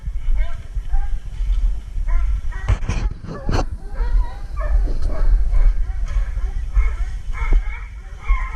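Hunting hounds bark and yip in short overlapping bursts, clustered loudest in the middle, with a whimper among them over steady low outdoor rumble; a person talks intermittently nearby.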